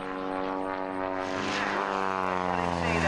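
A stunt airplane performing aerobatics at the 1987 Sussex, New Jersey airshow, its propeller engine droning loudly with a steady buzzing tone that rises in pitch and grows louder as it passes close by.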